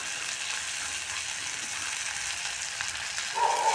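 Spices and green chilli sizzling in tadka tempering oil for masala Maggi, a dense continuous crackling hiss close to the pan, with a brief scraping stir near the end and no voices.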